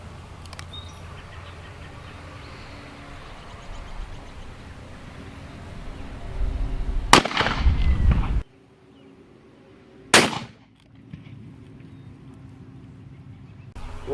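Two sharp, loud reports from a .500 Magnum revolver fired at body armor, about three seconds apart, each cutting through the quiet outdoor background with no talking.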